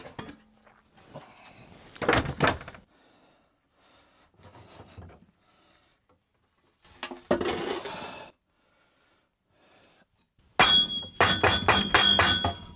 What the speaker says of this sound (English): we'll go ahead and start busting these molds open